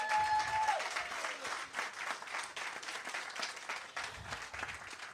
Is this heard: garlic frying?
no